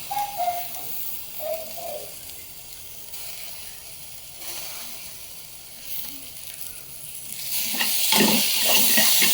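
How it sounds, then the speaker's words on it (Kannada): Ghee rice ingredients fry in a pan with a soft, steady sizzle and occasional stirring, growing louder and busier near the end; close and alone, with no speech. "ಎಲ್ಲ ತಿನಿಸುಗಳನ್ನ ನಾನು 2 ನಿಮಿಷ ಚೆನ್ನಾಗಿ ಫ್ರೈ ಮಾಡ್ಕೊಂಡಿದ್ದೀನಿ."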